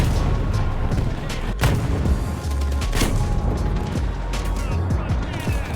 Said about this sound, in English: I bounced like a dozen shots from this guy.